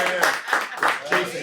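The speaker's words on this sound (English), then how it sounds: "We got to clap it up for our producer" Four rhythmic bursts of hand clapping from a small group, closely spaced and fairly near, with no voices over them.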